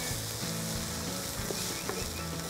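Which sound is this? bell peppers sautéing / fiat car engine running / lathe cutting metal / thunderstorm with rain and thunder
bell peppers sautéing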